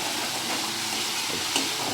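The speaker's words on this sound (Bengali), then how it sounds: "রসুন তো ভাজা ভাজা হয়ে গেছে" Garlic and green chilli frying in oil in a pan, giving a continuous, even sizzle at close range with no talk.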